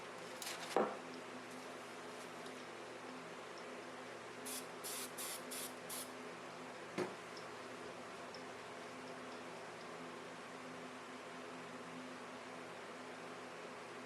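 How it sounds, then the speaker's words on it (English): A short spray glue aerosol burst sprays near the start, then a quick series of five brief spray pulses midway and one more later, over quiet background hiss. "protect your work area from any overspray from the spray glue"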